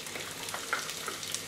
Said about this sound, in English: I've chopped the onion in small pieces, so I'm gonna add it to the preheated oil.